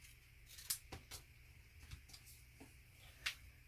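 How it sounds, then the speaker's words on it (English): Quiet snips of scissors cutting through card, a few scattered clicks and cuts against a soft background hiss, close by. "I've just cut a slither off my card"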